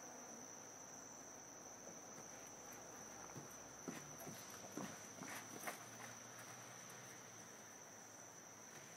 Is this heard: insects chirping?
yes